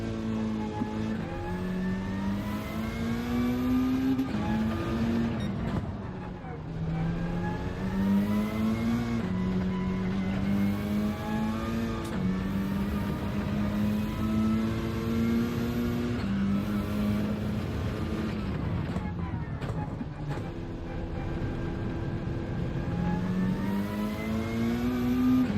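Race car engine in Gran Turismo 7 at Spa, held at full throttle and climbing through gears with rising and dropping whine, loud and continuous throughout with no pauses.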